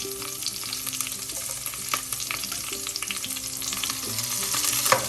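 Chopped garlic, ginger and green chilli stir-fry in a hot pan for a cauliflower thoran, a constant bright sizzle overlaid with scraping stirs and occasional sharp clinks of the utensil.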